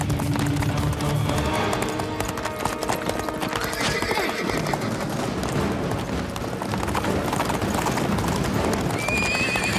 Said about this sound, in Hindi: तूफान एक जंगली घोड़ा है, शायद उसे बेल्ट की आदत नहीं।